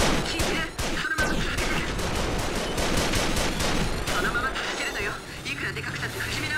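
Dense, continuous barrage of explosions and gunfire as GE rocket blasts destroy a turret in Armored Core V, loud and sustained throughout with overlapping impacts and a voice talking over the action.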